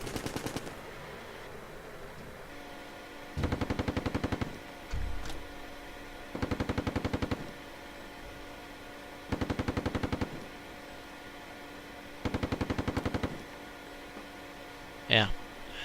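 A coaxial machine gun fires from a CV9030 vehicle in the Steel Beasts Pro PE tank simulator, five or six sustained rapid bursts about a second long at steady intervals over a low mechanical hum.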